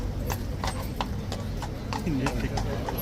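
Heavy hooves of an enormous King's Guard horse clip-clop in a steady, fairly close rhythm on hard ground, with crowd murmur and voices in the background.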